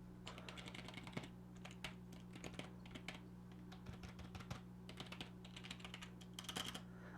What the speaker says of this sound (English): people go for mechanical keyboards is the sound and the clicky feel